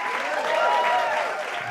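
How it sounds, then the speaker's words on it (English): An audience at an anniversary concert applauds in a steady wash of clapping, moderately loud and sustained, heard from within the hall with no speech over it. "I got applause for becoming a vegan today."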